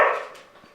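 A single loud, close dog bark at the start that fades quickly into quiet room tone, with no talk.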